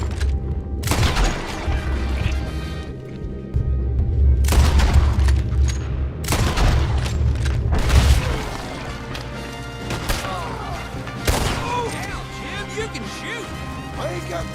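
Gunfire in Red Dead Redemption 2, a western video game: a fast run of sharp, loud booming shots and crashes with a heavy low rumble, bunched in bursts through the first half and thinning to scattered hits later, with voices talking over the fight.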